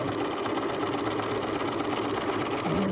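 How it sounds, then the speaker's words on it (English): Sewing machine stitching across fabric for a travel pillow, a fast steady mechanical whir with rapid needle chatter, close and continuous, no talk. "now I'm going to sew it all the way across the bottom to the other side"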